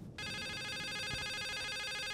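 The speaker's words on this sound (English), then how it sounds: "That phone's ringing." A telephone rings in the game The Suicide of Rachel Foster, starting abruptly and continuing as a loud, steady, buzzy electronic ring with no talking.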